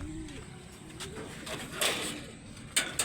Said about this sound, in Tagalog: Ayan ang kalapati mo dyan, nagkukuk na.